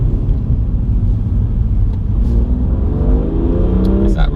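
A BMW M2 Competition press car gives a steady, close engine rumble with airy intake whooshing from the engine bay, holding a constant drone with a slight rise near the end.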